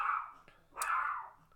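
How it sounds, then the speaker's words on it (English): A dog gives two short, sharp barks a moment apart, faint and some distance away in an otherwise quiet room. "we got barking again"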